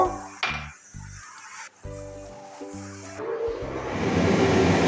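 Prawn heads fry in hot oil in a pan, a close crackling sizzle that builds to a steady hiss near the end, under loud tonal thumps and clatter of the pan.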